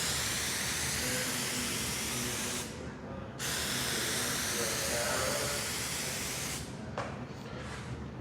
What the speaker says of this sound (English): we're going to put some of this spray trim adhesive on there